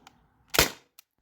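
A T4E TR50 Gen 1 air pistol with an 11 joule valve fires MCS Devastators pellets through a chronograph, giving one sharp, loud, close crack with a short tail, then a faint click a moment later.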